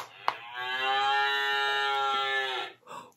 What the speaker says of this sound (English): Let's pat the cow to hear her moo.